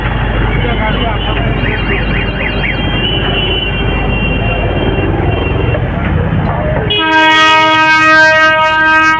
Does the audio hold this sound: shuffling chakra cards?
no